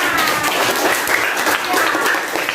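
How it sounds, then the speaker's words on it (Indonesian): A classroom group claps together after a hands-on mathematics activity, a loud, busy patter of many hands close by, steady through the short stretch with scattered voices mixed in. "Oke, tepuk tangan buat kita semua."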